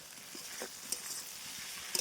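Masala sizzles softly as it is stirred and fried in oil in a pan, a faint continuous crackle with occasional light spoon scrapes and clinks.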